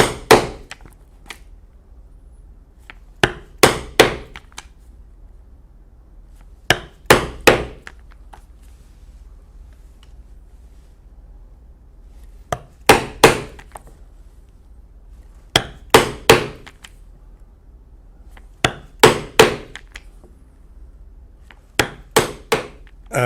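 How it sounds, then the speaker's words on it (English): A punch is hammered through a leather belt and its lining to make 1/8 inch holes, giving sharp, close, repeated strikes in small clusters of two to four blows separated by quiet gaps. "I'll punch a 1/8 inch hole at all these locations."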